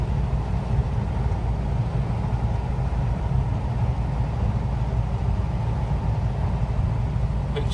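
A truck engine drones steadily from inside the cab as Robert drives along a road toward Oxford, a constant low rumble with road noise and no talking.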